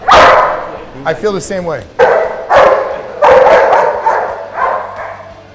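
Dogs bark repeatedly, loud and close, during a dog training session with martial-arts exercise, while people talk over the barking.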